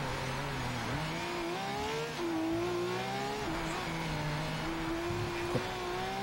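Race car engine in Project Cars 3 sweeping through an S-curve, revving steadily with pitch rising and dipping through the bends, loud and close, with no talk over it.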